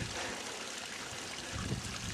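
A natural mountain stream in the Lake District flows in a steady, close rushing babble, broadband and unbroken, with a slight gurgling swell near the end and no voices.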